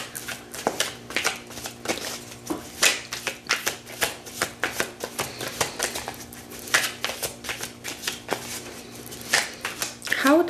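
A tarot deck being shuffled close up, with a rapid string of crisp card riffles and flicks running steadily throughout, partly under a speaking voice.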